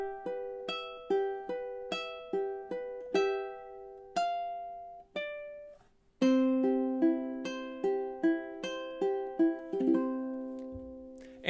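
Closing four measures of Spanish Romance on a fingerstyle ukulele, with even plucked arpeggio notes, a brief pause midway, then a lower run that rings out, solo and close.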